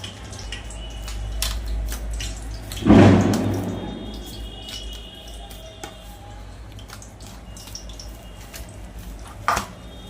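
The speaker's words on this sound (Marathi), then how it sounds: "आता थोडं थोडं पाणी टाकून मिश्रण एकजीव करून घेऊया." Water is added a little at a time to flour dough with sesame seeds while it is mixed and kneaded by hand. One short splash stands out early, followed by soft, faint squishing and drips.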